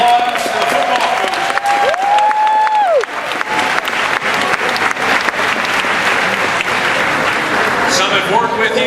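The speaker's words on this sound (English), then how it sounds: "Round of applause for the football coaches." Audience applause for football coaches at an evening event, loud sustained clapping filling the room for several seconds, with a few whistles and cheers near the start and voices mixed in.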